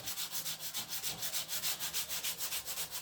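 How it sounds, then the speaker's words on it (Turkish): Sandpaper rubbing back and forth on a wooden ship model hull, a rhythmic run of about twenty raspy strokes, close and clear with no talking. "Arkadaşlar zımparaya devam."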